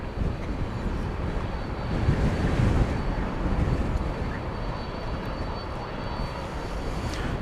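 An airliner, Delta flight 1207, comes in to land at Dallas/Fort Worth airport on a windy night, a broad, steady engine roar that swells slightly and then holds, heard from a distance.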